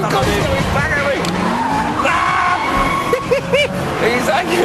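A car on track, in a Nissan 350Z versus BMW Z4 battle, brakes hard into a hairpin with sharp, wavering tire squeals and skidding over a loud, steady engine roar, and someone talks throughout.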